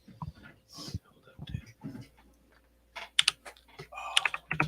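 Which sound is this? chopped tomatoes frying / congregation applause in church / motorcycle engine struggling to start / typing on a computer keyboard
typing on a computer keyboard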